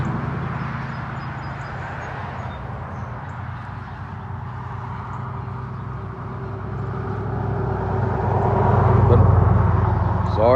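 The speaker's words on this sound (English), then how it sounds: "But sorry about that traffic." Road traffic near a garden rumbles past, a low vehicle drone that swells toward the end as a car passes close, while someone talks over it.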